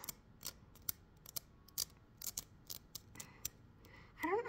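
A piece being scraped off a starfish: a run of sharp, close, dry scratching strokes in an irregular rhythm, faint overall, with a slightly louder rustle at the end.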